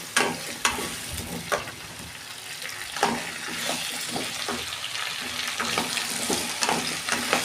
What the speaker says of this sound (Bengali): কুমড়ো আলু একসঙ্গে দিয়ে দিয়েছি এগুলো একটু ভাজা ভাজা করে নেব